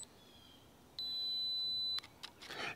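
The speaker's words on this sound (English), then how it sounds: "Cameras today have so many beeps, but thankfully now you can turn them off." A digital camera gives a short electronic focus beep, a steady high tone lasting about a second, followed by faint clicks and handling noise in a quiet room.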